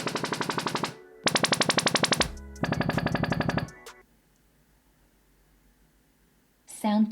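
Sony SRS-RA5000 speaker playing its calibration sequence: loud buzzing pulsed tone bursts in three blocks, each chattering rapidly, then near silence before a voice speaks at the end.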